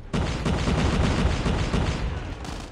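VTOL warship firing in Call of Duty: Mobile, a dense, loud barrage of rapid gunfire and booming impacts that continues without pause for about two and a half seconds.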